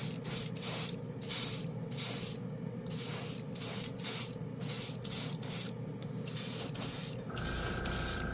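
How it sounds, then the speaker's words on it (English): An airbrush setup's original, louder air compressor runs steadily, giving a continuous loud hiss with a faint regular pulsing through it and no voices over it. "As you can hear, my other one, my original"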